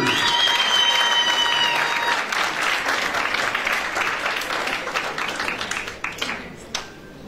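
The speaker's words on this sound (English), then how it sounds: "Let's clap hands for Vulamasa as they are coming out to receive their prize." Applause from an audience at a school regional competition prize-giving: loud, dense clapping that thins and fades over several seconds into a few scattered claps, with some voices and a sustained tone early on.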